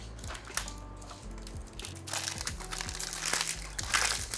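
Gift packaging crinkles and rustles in steady crumpling bursts during an unboxing, close and fairly loud, with no talking.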